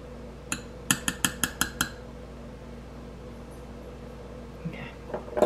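A long-handled teaspoon clinks against the inside of a glass jar while homemade fudge is made, six quick bright taps in a row, then quiet with a few faint knocks near the end.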